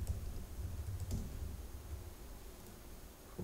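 Typing on a computer keyboard while editing text in a web page builder: a short, faint run of soft key clicks, closely spaced and steady, with no voices.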